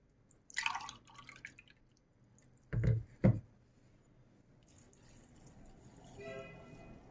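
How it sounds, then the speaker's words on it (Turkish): Lukewarm water is poured into a 3-litre glass pickle jar, heard as a few short close splashes and glugs amid quieter dripping and trickling, with a brighter filling sound near the end. "Ve şimdi ılık su ilave edeceğiz arkadaşlar."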